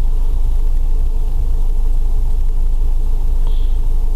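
A Geely Emgrand EC7 running on LPG idles with a steady, close low rumble that holds even and unbroken throughout, with no voices over it.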